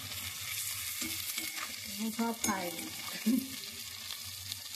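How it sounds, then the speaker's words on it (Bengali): Bitter gourd (uchhe) fries in a pan, giving a steady sizzle with a few stirring scrapes while someone talks over it. "আজকে আমি উচ্ছে ভাজা করছি।"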